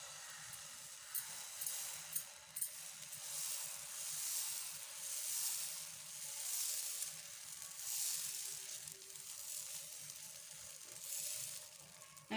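Rava dosa batter poured thinly onto a hot pan hisses in a steady, soft sizzle that swells and fades in gentle waves, close by, with no voices.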